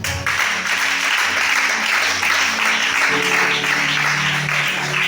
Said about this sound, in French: Acclame Shaddai